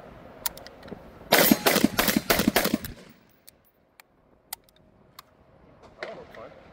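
A PSA Krink rifle fires a rapid close burst of loud, sharp gunshots lasting under two seconds, followed by scattered metallic clinks and small clatters.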